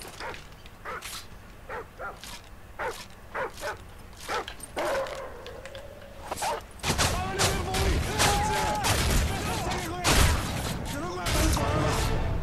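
Dog barking in the video game Call of Duty: Modern Warfare 3, sharp repeated barks and yips scattered over several seconds amid loud gunfire and game noise, with a person talking over it.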